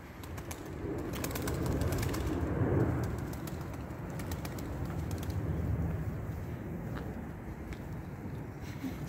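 Tumbler pigeons coo softly and continuously inside a coop, a low murmuring flock sound with faint clicks and rustles throughout.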